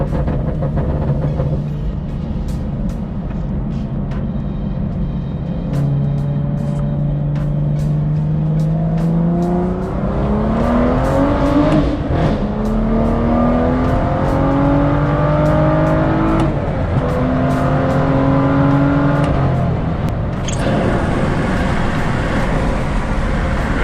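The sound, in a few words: BMW M2 manual car accelerating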